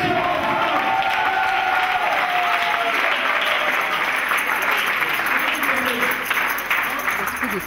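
A church congregation claps and cheers loudly and continuously, a dense wash of applause with crowd voices mixed in and a few raised shouts rising above it.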